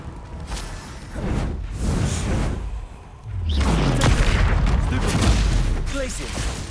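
Bombarda explosion spells in Hogwarts Legacy go off as heavy booming blasts with whooshing bursts, two loud surges of rumbling impact separated by a brief lull, with a voice speaking between them.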